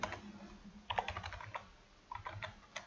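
Someone types on a computer keyboard while writing VBA code, a quiet, close patter of key taps in short uneven bursts with brief pauses between them.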